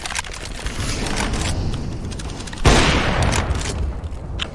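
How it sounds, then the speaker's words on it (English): A flashbang grenade in Counter-Strike: Global Offensive bursts with a sudden loud bang partway through, set against a steady bed of gunfire and game noise. "Throwing flashbang"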